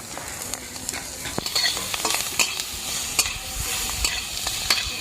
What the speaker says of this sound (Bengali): পেঁয়াজ কুচি দিয়ে দেবো